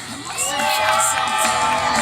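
Crowd cheering at a BMX stunt show, loud and close, with children shouting and whooping and a rising whistle-like tone swelling above the sustained roar for about two seconds.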